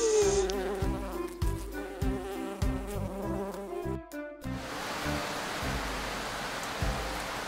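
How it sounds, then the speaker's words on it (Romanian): A bee's buzzing, a sustained insect drone mixed into a cheerful children's song, sits under the music and then stands out as a noisy hiss toward the end. "Mami, cum face albina? Albina face bzzz."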